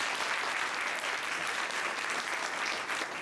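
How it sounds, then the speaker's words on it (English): An audience at a leadership session applauds in a steady, even wash of clapping that holds at moderate volume from start to finish. "Round of applause for that"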